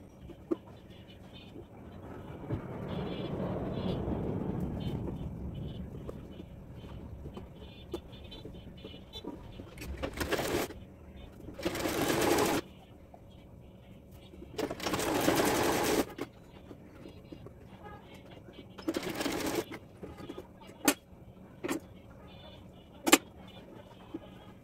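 Home sewing machine stitching the button placket of a baby chemise, several short whirring runs of stitching separated by pauses, with faint handling clicks and a low background hum.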